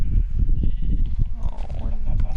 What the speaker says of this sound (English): is there so many sheep over here?